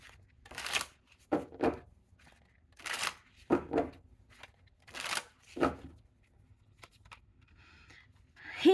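Tarot cards are shuffled in several quick riffling bursts, close and crisp, separated by short pauses.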